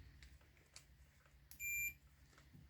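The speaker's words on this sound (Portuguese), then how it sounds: "Vocês colocam aqui, ó, nessa escala de bip continuidade." A short, high multimeter continuity-test beep sounds once, steady for about a third of a second against faint clicks and quiet background hum, during repair of a Nespresso Aeroccino 3 milk frother.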